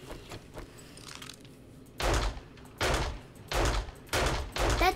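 Gunfire in the game 7 Days to Die: after a stretch of quieter ambient rumble, five loud, broadband blasts land at a fairly steady pace, each one booming with a short tail and no talk over them.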